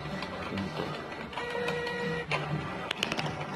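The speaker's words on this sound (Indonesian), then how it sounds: "Itu artinya kita sedang cleaning printer." An inkjet printer runs its cleaning cycle with a steady mechanical whir, a brief motor whine and a few clicks near the end.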